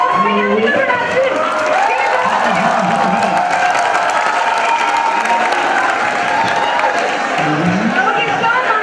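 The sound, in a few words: audience applause at fresher welcome event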